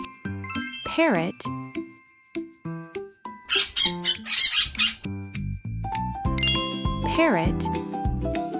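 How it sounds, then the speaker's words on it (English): A parrot squawks in a rapid string of harsh, bright calls midway, backed by playful music with jingles and bouncing tones. "parrot"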